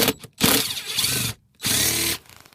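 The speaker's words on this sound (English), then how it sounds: "there's 4 10mm bolts down here, and we're going to remove those next" A power tool works on 10mm bolts under a 2005 Infiniti G35, giving two loud close bursts of whirring with short pauses between, heard alone without talk.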